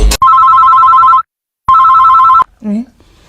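A telephone rings in two long electronic trills, the second shorter, with a pause between them; the rings are loud and close, followed by a brief voice.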